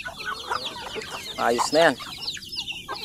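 Chickens on a small farm cluck in brief bursts at moderate distance, with a louder squawking call in the middle, while a person speaks quietly.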